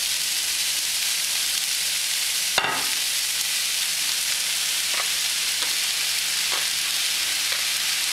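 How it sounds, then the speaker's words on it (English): Tofu and shiitake frying in a lightly oiled pan, a loud, constant close sizzle with a sharp burst as the food goes in and a few faint stirring taps after. "I am going to add my tofu and my shiitake"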